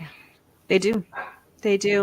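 A dog barks from another room during a live online talk, a few muffled barks set under a person's speech.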